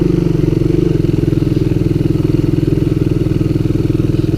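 The engine of a Coolster Mountop 125 ATV runs in second gear with its starter chain just repaired, giving a loud, close, steady pulsing drone with a fast regular firing rhythm and no talking.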